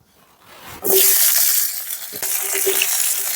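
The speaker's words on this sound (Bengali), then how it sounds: "ধুয়ে রাখা আম দিয়ে দিচ্ছি তেলের মধ্যে" A quiet start, then a sudden loud sizzle as washed mango pieces hit hot oil with panch phoron and dried red chillies, settling into steady crackling frying with a stirring scrape.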